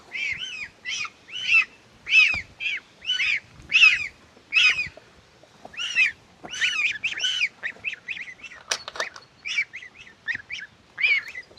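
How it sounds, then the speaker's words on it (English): A goose honks in loud, close, rapid repeated calls, in bursts with brief pauses and some overlapping honks. "Stupid goose."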